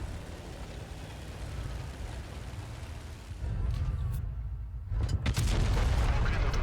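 A heavy tank cannon blast in a video game booms loudly, followed by a second sharp explosion, over a constant low engine rumble.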